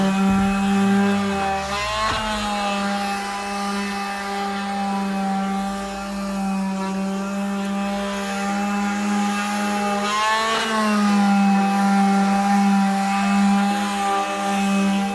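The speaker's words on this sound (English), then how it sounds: "They're doing some intense sanding with the Festool system and grinding it" A Festool sander grinds an old coating off clear redwood siding, a loud steady motor whine with harmonic tones that runs through the whole stretch, dipping and swelling in pitch as the tool is loaded against the wood.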